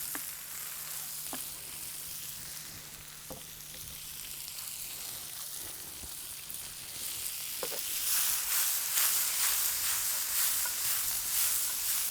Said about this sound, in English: our garlic. We just want to fry that